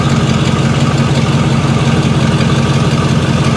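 A 1978 Chevrolet Corvette with all original mufflers and stock manifold idles smoothly, a loud, steady low rumble close by with an even throbbing pulse and no revving.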